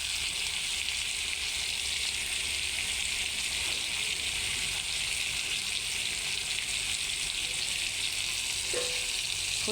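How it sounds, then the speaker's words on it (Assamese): Meat sizzles in hot oil in a covered pan, a steady, bright frying hiss that carries on evenly with occasional soft pops and a faint clink near the end. "ফুটি মাংস গাৰ পৰা তেলখিনি ওলাবলৈ লৈছে"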